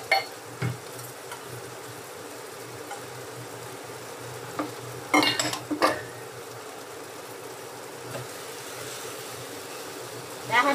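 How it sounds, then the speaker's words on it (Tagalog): Rice being stirred gently with cooked tomatoes in a pan for Mexican rice, producing soft scraping and occasional utensil knocks over a low sizzle, with a few louder scrapes and a voice speaking at times. "Dahan-dahan lang ang paghalo"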